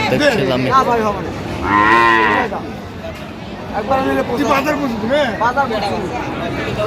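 Cows and calves moo repeatedly at a busy cattle market in Aftabganj, Dinajpur. The lowing is loud and close, with one long call in the middle and others following, over background chatter and voices.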